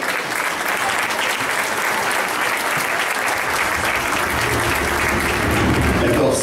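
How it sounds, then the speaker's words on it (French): Crowd applause greets the Corsica delegation's entrance at a karate event, a steady dense wash of clapping that swells slightly toward the end, with a voice faintly audible beneath. "Sous vos applaudissements, s'il vous plaît"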